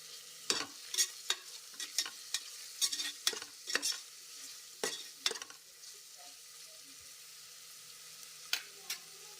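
Onions with turmeric stirred in a pan for a mutton keema biryani, a spoon scraping in a quick irregular series of sharp strokes over a soft steady sizzle, close and alone.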